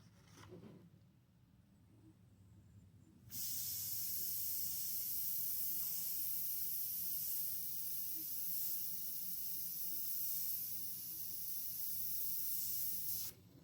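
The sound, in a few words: airbrush spraying yellow Createx paint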